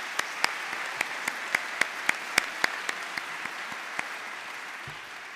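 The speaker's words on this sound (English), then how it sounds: "So let's give them a round of applause." Audience clapping at a college athletics hall of fame induction ceremony, heard as a thin run of distinct, evenly spaced claps from a modest crowd in a hall, moderately loud at first and tapering off over several seconds.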